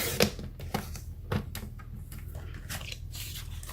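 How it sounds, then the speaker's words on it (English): Paper sliced on a Stampin' Trimmer while making Christmas cards: a few soft, close crunching clicks and scraping strokes of the blade, quiet, with no voice. "So we're going to cut it at 4 inches."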